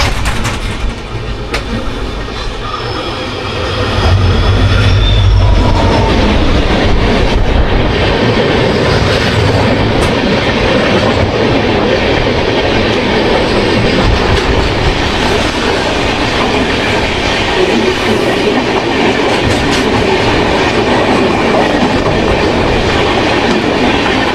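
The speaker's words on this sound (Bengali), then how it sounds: "এই ট্রেন ক্রসিং দেখতে বন্ধু এত ভালো লাগে, কি বলবো।" Two trains crossing on an Indian railway line, one of them the 12325 Gurumukhi SF Express from Kolkata toward Shimla, with a sustained loud rumble and clattering wheels that swell a few seconds in and roar on steadily nearby.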